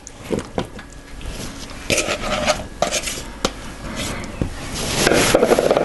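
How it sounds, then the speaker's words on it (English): Peeled, cut potatoes drop into a pot of cooking oxtail with a series of close clunks and knocks against the metal pot, ending in a short scraping stir. "And now all I'm going to do now is to add the potatoes."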